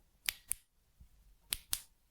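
A handheld device makes sharp, quiet clicks up close: two quick pairs of crisp snaps separated by a short pause, in an otherwise near-silent space.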